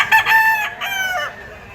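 A bull stag gamefowl rooster crows once up close, a loud, harmonic cock-a-doodle-doo that rises and trails off, heard at an auction market.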